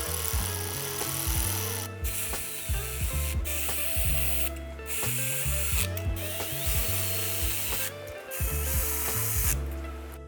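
A ratchet clicks in quick repeated bursts while snugging turbo manifold bolts on a GM 1.4L Chevy Cruze, close and loud, with short pauses between strokes.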